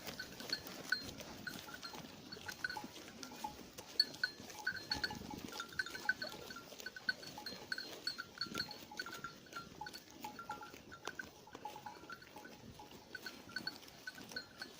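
Sheep grazing in a dry, unirrigated ryegrass field, heard as faint scattered bleats and soft cowbell-like clinks over a quiet outdoor background, spread evenly through the scene at some distance.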